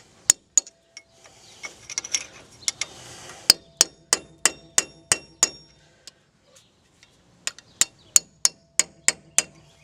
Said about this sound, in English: Just get you a chisel and a hammer, and usually if you just tap it a few times, usually it'll come loose.